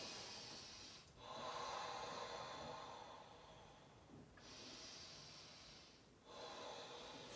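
Slow, deep breaths during a mobility yoga flow, heard up close as three long airy inhale-and-exhale cycles with short pauses between them and no talking.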